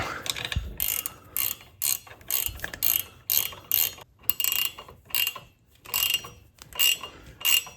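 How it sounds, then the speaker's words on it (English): A ratcheting wrench cranks down a 17mm bolt during a 1997 Mustang Cobra engine rebuild, giving repeated bursts of close, crisp pawl clicking separated by short pauses. "we'll slide a ratcheting wrench over to the 17mm, and then we'll hold this with a crescent wrench, and we'll start cranking this down"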